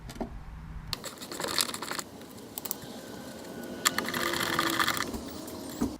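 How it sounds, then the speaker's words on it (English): A 13mm socket loosens the nuts on a rear shock of a Chevy Malibu, with two short bursts of rapid metallic ratcheting clicks up close, separated by brief pauses. "We're just going to use a 13mm socket to do that."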